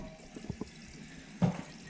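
Toilet tank refilling with water after a flush on a newly installed toilet: faint trickling and splashing with a few soft gurgling bumps, quiet and close, without speech.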